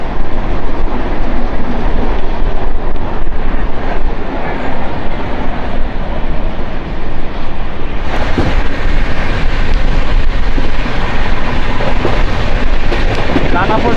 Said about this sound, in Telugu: టాటానగర్ నుంచి యశ్వంత్పూర్ వరకు వెళ్ళే ఎక్స్ప్రెస్ ట్రైన్.